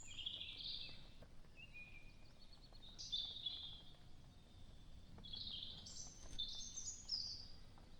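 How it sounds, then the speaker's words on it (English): Faint birdsong drifts in short chirping phrases over a soft, steady background hiss in the Black Forest, distant and quiet, with no voices. "listen and you hear the birds chirping"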